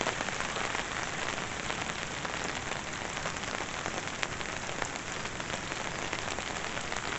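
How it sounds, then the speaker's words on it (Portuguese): Steady heavy rain pouring down on a surface in Irecê, Brazil, a dense continuous hiss with scattered louder drops, no voices. "Muita chuva."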